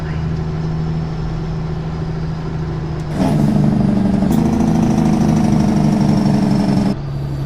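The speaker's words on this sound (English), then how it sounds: "I will say this truck does have great sound." Heavy truck engine in American Truck Simulator holding a steady low drone, then stepping up sharply in loudness and pitch at about three seconds as it pulls harder, and easing back near the end; continuous and close, no talk.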